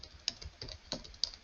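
Several light keystrokes on a computer keyboard as a website address is typed, quiet, close and unevenly spaced, with no voice.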